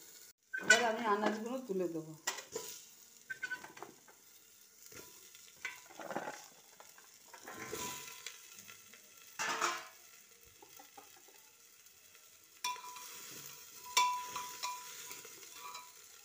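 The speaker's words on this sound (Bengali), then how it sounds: "এবার আমি আনাজগুলো তুলে দেবো" Vegetables go into a pot for a chicken jhol, with faint sizzling, a scrape of a spoon stirring and occasional clinks of utensils against the pan, all soft and close with quiet gaps between.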